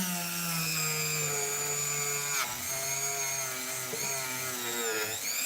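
A rotary multi-tool fitted with a polishing bit runs steadily and loudly throughout, a continuous high-pitched whine that dips briefly in pitch midway and again near the end, during restoration work on a 30-year-old Squier guitar.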